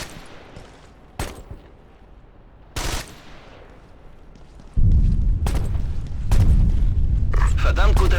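Gunfire and heavy explosions from the video game Ghost Recon Advanced Warfighter 2: sharp isolated shots early on, then a loud, sustained barrage of booms and rumbling blasts in the second half, with a voice speaking between bursts.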